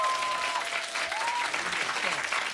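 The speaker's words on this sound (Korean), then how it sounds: "마음에 드시면 박수 한번 보내주시기 바라겠습니다." A hall audience at a live political talk show bursts into sustained applause, dense and even clapping filling the whole stretch, with a faint tonal whistle or feedback line near the start.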